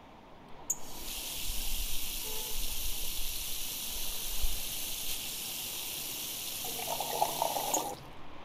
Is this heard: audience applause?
no